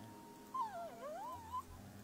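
An orphaned fox cub gives a thin, wavering whine that rises and falls twice, close and faint over a low background hum.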